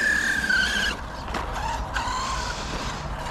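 A small RC car runs on an outdoor pumptrack, its electric motor whining and tires scrubbing briefly up close before the sound thins out.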